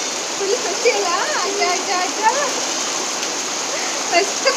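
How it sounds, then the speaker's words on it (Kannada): Heavy rain falls on a village, a broad steady wash of water noise, while children's voices call and chatter over it nearby. "ಎಷ್ಟು ಜೋರ್ ಮಳೆ"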